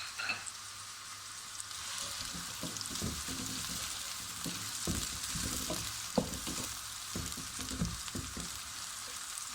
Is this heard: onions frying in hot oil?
yes